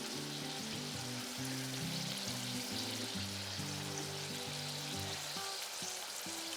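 Wheat-flour puris fry in hot oil over a low gas flame, giving a steady, loud, close sizzle that runs unbroken throughout, with a tonal musical bed underneath.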